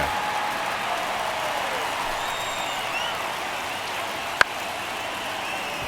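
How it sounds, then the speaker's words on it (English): Stadium crowd noise from the video game MLB The Show 2024 during a late-inning at-bat: a steady, broad roar of fans cheering throughout, with one sharp brief crack near the end. "Listen to that crowd."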